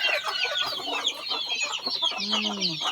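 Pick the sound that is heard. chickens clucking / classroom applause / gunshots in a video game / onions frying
chickens clucking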